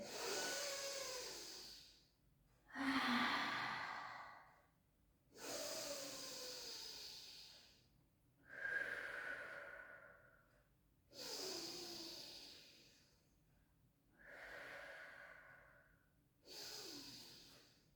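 Slow, deep breaths during a pilates shell stretch, big toes together and knees wide, six or seven long inhale-exhale cycles with audible airy rush and soft snorting edges, close and steady, no talking.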